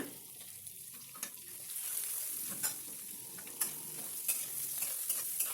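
Sliced onions dropped into hot oil with turmeric, frying for a spinach-and-dal dish, give a steady bright sizzle with intermittent sharp crackles and scraping stirs close up.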